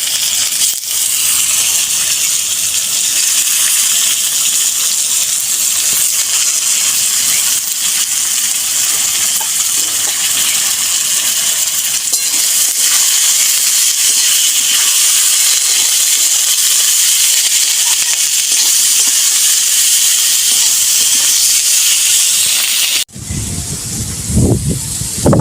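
Cabbage dropped into frying potatoes in a hot pan, giving a steady, loud broadband sizzle that holds throughout before cutting to a brief muffled clatter at the end.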